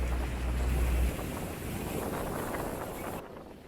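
A ride on a Hanse sailing yacht out on open water, with strong wind buffeting the microphone over a rushing wash of water and waves; loud and steady, with a heavy low rumble at first that eases off.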